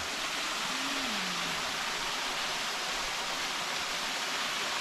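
Steady, dense rushing water from a remote waterfall fills the whole clip, a constant roar close by, with a faint brief tone early on.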